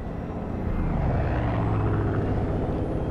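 A helicopter in the video game Far Cry 5 gives a steady, loud rotor and engine roar that fills the whole clip with no pauses.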